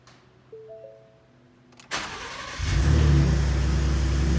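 A Gen2 Ford Raptor truck with a COBB tune starts after a click and brief starter crank, then settles into a loud, steady idle rumble, heard alone.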